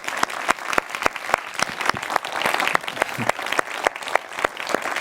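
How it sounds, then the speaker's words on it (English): Conference audience applauding at a cultural heritage event, a steady wash of clapping with sharp individual claps standing out throughout, fairly close and sustained. "give a big round of applause"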